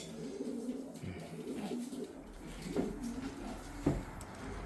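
Racing pigeons in a loft coo softly, low repeated throaty calls near and fairly quiet over faint background noise.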